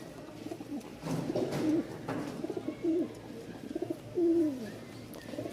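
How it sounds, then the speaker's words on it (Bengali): Fancy pigeons coo repeatedly at a pigeon market in Mirpur-1, Dhaka, with several close, throaty rolling coo phrases rising over a soft murmur of background noise. "দুটা কবুতর দেখবেন মাশাআল্লাহ কোয়ালিটি কেমন"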